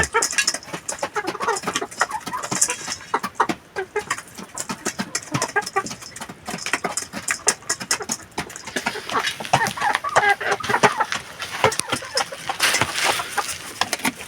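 A rooster and hens cluck and squawk continuously in a noisy, busy mix, with occasional sharper bird calls rising above the flock.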